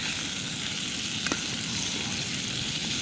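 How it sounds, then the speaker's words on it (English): Chili sizzles steadily in a pan over a camp stove while being stirred, a continuous close frying hiss with a brief scrape of the spoon partway through and no talking. "give it another stir because those bits on the underside will be pretty much done"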